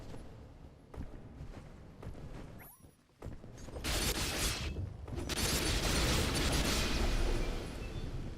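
Loud, sustained blasts and crackling bursts of explosions in the video game Dust: An Elysian Tail, building into a dense roar in the second half with brief quieter gaps before.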